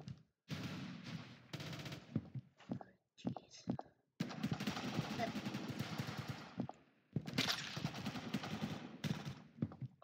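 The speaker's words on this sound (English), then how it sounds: "Where am I getting shot from?" Automatic weapon fire in the Roblox game Phantom Forces comes in long, sustained bursts broken by short pauses, loud and continuous against brief quiet gaps.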